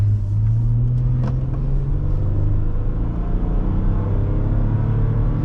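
A 2011 Lexus RX350 cruises with a steady low engine rumble and road noise heard from inside the cabin, even and smooth with no talking.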